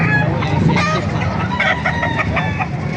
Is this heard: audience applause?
no